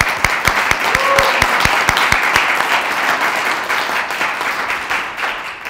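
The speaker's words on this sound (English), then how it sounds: "let's give him a round of applause for that." A press-conference audience applauds, with a dense spread of many clapping hands and one loud, regular, close-by clapper standing out for the first couple of seconds, before the applause carries on steadily and a voice sounds faintly within it.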